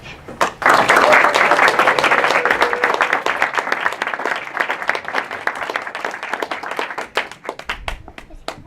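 A live audience breaks into loud, sustained applause as author Dave Eggers is welcomed onstage at Book Passage, the clapping dense at first and then thinning out, with a voice briefly heard over it.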